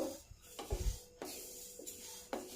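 Horse gram dry-roasts slowly in a pan over a low flame, with intermittent scraping stirs and light rattling of the grains, close and moderately quiet with no voices.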